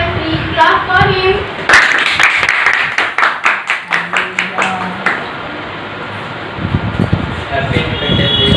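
Students at an Independence Day celebration clap in a short burst that settles into a few distinct, evenly spaced claps before fading, with a fan humming underneath and speech starting up again afterward.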